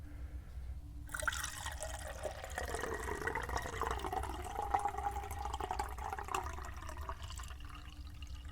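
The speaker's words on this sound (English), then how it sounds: "So let's pour you some water here." Water is poured into a cup or glass for a feverish patient in a close, quiet room: a sudden gurgling, splashing stream that runs for about six seconds, then stops.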